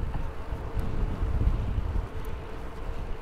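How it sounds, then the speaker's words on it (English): Strong wind buffets the microphone on a steep hillside along a bike route in Japan, a loud rumbling roar that gusts unevenly throughout with no voices. "it is a windy day"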